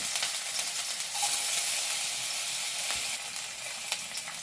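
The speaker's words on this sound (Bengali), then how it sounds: "এরপর এই তেলের মধ্যে আমি যে আদাটা দিয়েছিলাম ওই আদা কুচিটা দিয়ে দেব।" Chopped ginger frying in hot refined oil in a wok, a steady close-up sizzle with soft crackles that stays even and unbroken, no voices.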